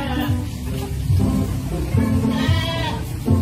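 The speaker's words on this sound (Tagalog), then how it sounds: "Ayan po yung kanyang mga kambing." Goats on a Philippine farm feeding on freshly chopped forage, with several bleats rising over a steady background of chewing and rustling, close and fairly loud, and no one talking.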